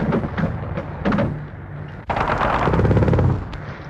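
Gunfire raking army jeeps of a divisional recce squadron racing for a bridge in a 1946 war film, with bursts of shots, a sharp loud onset near the middle, then dense continuous firing.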